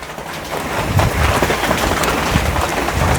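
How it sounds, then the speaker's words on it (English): Heavy rain sweeps in outdoors during a summer storm, a loud, dense hiss of drops pattering on surfaces with low rumbling gusts, continuous and close with no voices. "now the rain's coming in"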